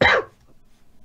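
A single short, loud cough bursts out up close, followed by a quiet, low room background.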